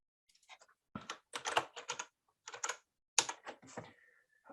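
Quiet, close clicking of computer keyboard keys in short irregular bursts with brief pauses, alone without talk.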